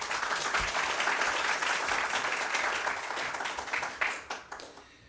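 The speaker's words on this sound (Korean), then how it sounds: "여러분, 총장님께 다시 한번 큰 박수 부탁드리겠습니다" An audience applauds the university president at a Kyung Hee University education vision event, a broad wash of clapping that thins out into a few last scattered claps near the end.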